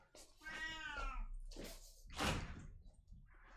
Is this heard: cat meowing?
yes